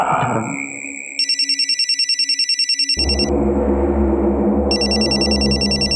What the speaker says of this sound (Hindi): हाँ मेरा फोन बज रहा है।